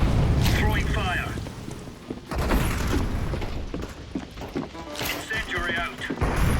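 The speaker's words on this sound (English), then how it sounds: "Incendiary out. Incendiary. Throwing fire." Fire from an incendiary grenade thrown in a tactical shooter game, a roaring, crackling burst under steady game noise and chatter, with players talking over it throughout.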